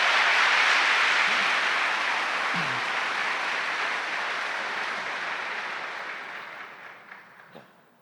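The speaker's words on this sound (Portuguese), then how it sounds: "Um aplauso para Augusto dos Anjos" An audience at a talk breaks into sustained, dense applause that starts loud and full, then slowly thins and fades toward the end with a few scattered claps.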